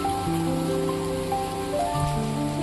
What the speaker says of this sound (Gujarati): મેં જોયું તો વરસાદ તો ભાઈ બહુ છે